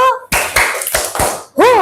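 Clapping in a classroom ice-breaking clap game: a quick, close clap sounds from the group, with brief voices just before and after it.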